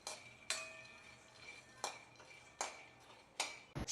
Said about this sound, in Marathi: शेंगदाण्याचा चुटचुट आवाज पण येत आहे